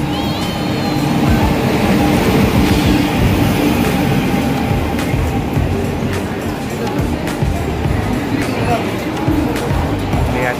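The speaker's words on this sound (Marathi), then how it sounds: "हा तर ट्रेन आले आता इकडे." A train pulls into a busy Mumbai railway station, a steady rumble and roar of rail noise filling the platform throughout, with crowd voices chattering underneath.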